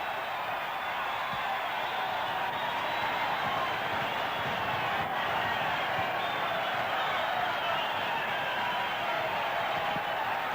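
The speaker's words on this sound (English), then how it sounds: "Have a listen to that crowd now." Loud, dense roar of a rugby league stadium crowd cheering after a Brisbane try in a 1979 Amco Cup match, a sustained wall of noise that holds steady throughout.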